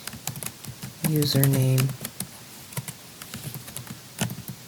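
Quick, irregular clacks of fingers on a computer keyboard come in short bursts, close and fairly quiet, while a person speaks briefly in the middle.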